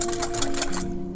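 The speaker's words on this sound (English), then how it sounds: "Whisk it up," A quick, close whisk rattling against a bowl as salt, sugar and vinegar pickle brine is stirred, a short burst of rapid rhythmic ticking that stops abruptly.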